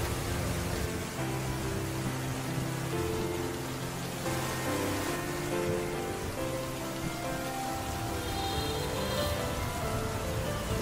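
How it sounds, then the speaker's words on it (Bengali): Steady autumn rain falls over a village path in rural Bangladesh, a dense continuous hiss of drops on surfaces that stays loud and even from start to finish with no voices. "অনেক বৃষ্টি হচ্ছে, বৃষ্টিতে আসলে বারবার চোখ ভিজে যাচ্ছে।"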